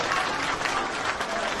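A crowd at a street political gathering applauds in a short, dense burst of clapping, loud and continuous, with faint voices mixed in.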